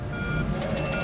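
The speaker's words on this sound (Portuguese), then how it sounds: "imediatamente após os aerofólios retraírem, há um sinal dramático de alerta no cockpit." An airliner's cockpit stall warning alarm sounds loud and continuous, a steady electronic tone over a dense roar of engine and cabin noise, with repeated pulsing beeps joining partway through.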